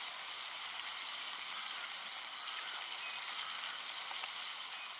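Food frying in butter in a pan at a wild camp gives a constant, even, crackling sizzle with no talking, close and fairly soft throughout.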